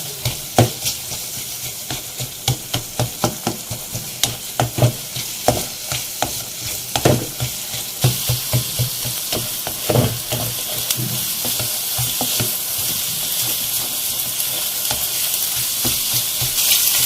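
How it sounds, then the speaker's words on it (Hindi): Egg masala for a dhaba-style anda ghotala fries steadily in oil while a ladle stirs it, the scrapes landing as a quick irregular run of clacks over a constant sizzle that thickens toward the end. "आपको अंडे डालने के बाद इसकी भुनाई बहुत अच्छी तरह से करनी है और चमचा हमें बिल्कुल इसका चलाते रहना है साथ साथ"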